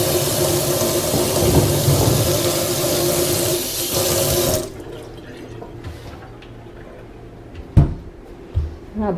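Tap water runs loudly into a container for a few seconds, a steady close rush that stops abruptly, followed by quiet handling knocks and clunks.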